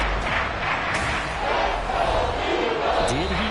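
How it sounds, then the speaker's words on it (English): A football stadium crowd shouts and roars continuously during a replay of a game, a dense, steady wash of voices with a commentator talking over it. "Plenty of shouts from this crowd as they watch the replay."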